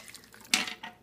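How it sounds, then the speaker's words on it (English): A short splash of water pours into a pot of curried squash soup, a single bright burst with a little clatter around it, heard close and alone. "I think I'll put a little water in."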